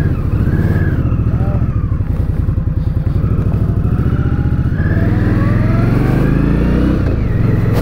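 A 2019 Indian Scout Bobber motorcycle engine revs up and pulls through rising and falling throttle on a test ride, loud and close with a steady throbbing exhaust pulse throughout.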